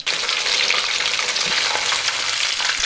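Croquettes sizzle and crackle in hot frying oil, a dense, steady hiss close up with a few small pops and no talking.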